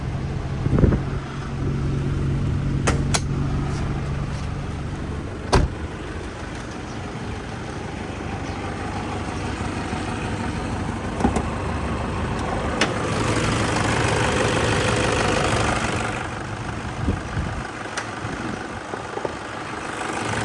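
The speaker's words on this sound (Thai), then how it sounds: "เดี๋ยวเราลองสตาร์ทก่อน อ่า นี่ครับ สตาร์ทง่ายๆเลยนะครับ" A Toyota Sport Rider 2.5 D4D diesel 4x4 pickup with a manual gearbox cranks and starts, then settles into a steady, rumbling idle. It is heard up close, with occasional clicks and a brief lift in engine speed.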